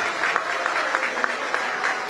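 A crowd at a political event applauds in a steady, dense wash of clapping with a few louder individual claps, and a faint background murmur underneath.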